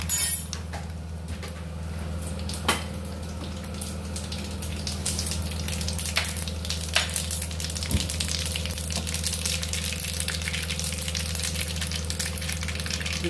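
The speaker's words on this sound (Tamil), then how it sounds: "இப்ப நம்ம கடுகு போடலாம்." Mustard seeds spluttering and popping in hot oil for a lemon rasam tempering, a steady close sizzle with scattered sharp pops and a faint clink or two throughout, no voices.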